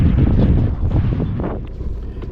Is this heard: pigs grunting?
no